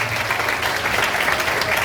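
A crowd of students at a school event in Hazaribagh breaks into loud, dense applause, a continuous even wash of many hands clapping together.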